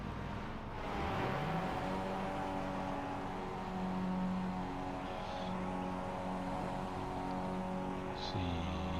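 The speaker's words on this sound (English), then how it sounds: "See here, both of them revving up." Race cars rev up as they leave the short pit lane at Okayama circuit, engine pitch climbing and holding in a rising whine, then dropping sharply near the end, with a commentator talking over it.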